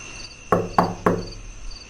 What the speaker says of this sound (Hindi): भोलू और दादाजी खाना खा रहे थे, तभी दरवाजे पर दस्तक हुई।